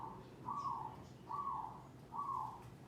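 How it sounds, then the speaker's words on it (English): A mountain dove calls in repeated hooting coos at a steady rhythm over a constant outdoor background hum, moderately loud and fairly near. "The mountain doves are going crazy right now."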